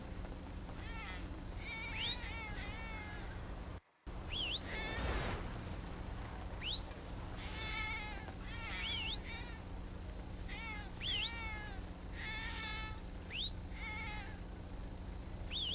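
A Siamese cat meows repeatedly, with several rising, wavering cries spread across the stretch, fairly faint over a low background hum.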